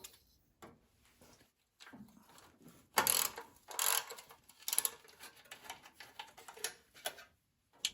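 A ratchet clicks in quick bursts while loosening bolts on the metal carburetor cover of a Tecumseh snow blower engine, with sharp louder ratcheting strokes separated by short quiet pauses.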